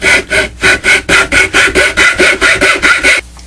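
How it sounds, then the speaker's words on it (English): Edge of a square file cutting grooves into wood for a rubber band gun, a loud close rasping stroke repeated about fourteen times in an even back-and-forth rhythm before stopping. "we're going to make a couple of grooves using a square file"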